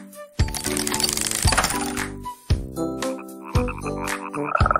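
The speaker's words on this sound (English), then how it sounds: "Frog." A cartoonish frog croaks in several loud, bright bursts with a metallic ringing tone, each call separated by brief pauses, heard close and alone.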